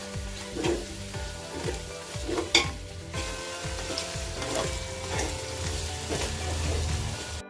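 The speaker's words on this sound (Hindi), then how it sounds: "इसको भी हमें 2 मिनट तक चलाना है, जैसे हमारा टोमेटो थोड़ा गल जाए" Tomatoes stirred as they fry in a pan for South Indian chicken dum biryani, with a steady sizzle and repeated scraping spoon strokes in a regular rhythm, close and moderately loud.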